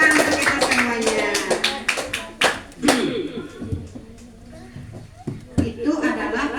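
A class in an Indonesian lesson on computational thinking claps hands together, with quick claps clustered in the first few seconds amid voices and light laughter.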